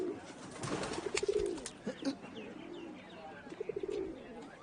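Pigeons cooing nearby in a dubbed drama scene, several soft repeated coos in short bursts, fairly close and clear with little else around.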